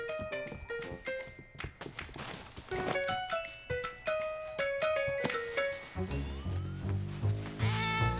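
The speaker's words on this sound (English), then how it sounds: "Silly cat, get out of there!" A cartoon cat meows in a snowy holiday scene, the calls mixed into busy, chiming background music with clinking, jingling accents.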